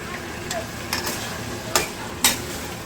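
Vegetables stir-fried in a pan for khichuri give a soft, steady sizzle, with a few brief scraping stirs of a spatula against the pan standing out over the low frying hiss.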